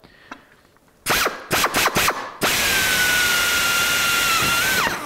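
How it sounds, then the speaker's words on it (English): A power drill grinds loudly in several short bursts, then bores steadily for a few seconds with a high whine, stopping abruptly at the end. "I'm letting the drill pull its way through."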